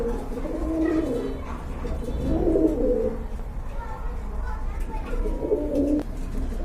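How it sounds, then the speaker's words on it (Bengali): Pigeons kept for sale at a pet shop coo softly in repeated low, throaty phrases, a few calls spread over several seconds beneath someone talking nearby. "কবুতরগুলো কিন্তু মাসাল্লাহ অ্যাক্টিভ রয়েছে"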